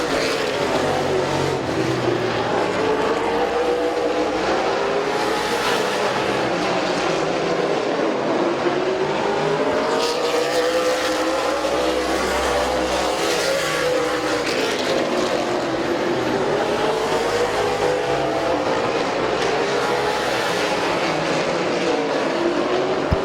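Race cars circle Midvale Speedway, their engines making a continuous roar that rises and falls as the cars sweep past, loud and steady over crowd and track noise with no clear talking.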